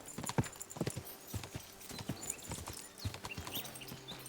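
Horse hooves clip-clop in a steady riding gait on a dirt path in Kingdom Come Deliverance 2, the rhythmic thuds fairly quiet against soft ambient game background.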